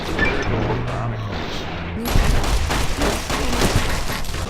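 Gunfire from combat in the video game Fallout: New Vegas: rapid, overlapping shots with impacts, loud and dense in the second half, while a voice talks over it.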